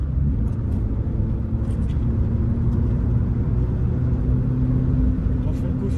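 A Ford Fiesta Mk5 Zetec S rumbles steadily from inside the cabin on a winding road, with a continuous low engine and road drone beneath people talking.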